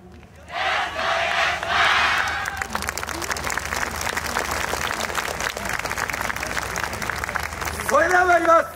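At the YOSAKOI Soran Festival 2023, a crowd claps and shouts in a loud burst as the Hokusei Gakuen University team takes the stage. Steady rhythmic applause follows, with voices calling out over it.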